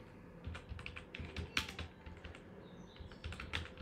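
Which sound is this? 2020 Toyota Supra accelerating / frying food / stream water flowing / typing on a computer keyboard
typing on a computer keyboard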